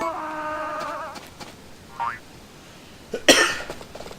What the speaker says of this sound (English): Now if I could just stop coughing